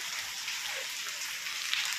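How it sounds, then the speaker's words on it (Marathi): Heavy rain falling: a steady, even hiss of rainfall with faint scattered drops, moderately quiet and continuous, with no voices. "पाऊस भरपूर पडतंय"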